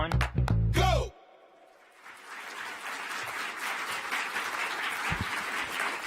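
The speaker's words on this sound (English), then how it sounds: "Thank you for that applause" Audience applause at a NASA headquarters broadcast event in Washington, D.C., a steady, moderate clapping wash that builds and holds for several seconds after a brief loud burst at the start, with no talk over it.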